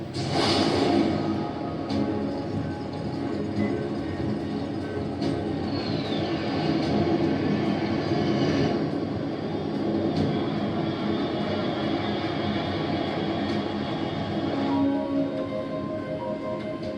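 Aircraft engine drone in Metal Gear Solid 3: Snake Eater, a steady loud roar held for many seconds with faint tonal whines and a brief sweeping tone partway through.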